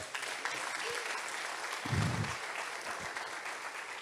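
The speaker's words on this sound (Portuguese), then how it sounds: "Aplaude ele, aplaude." A church congregation applauds in a sustained, dense wash of clapping, with a low voice briefly rising under it partway through.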